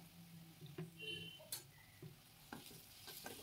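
Ginger paste and garlic stirred and fried in a pan for a Bengali chicken egg devil, faint sizzling with a few soft scrapes and clicks of the spoon, close but quiet.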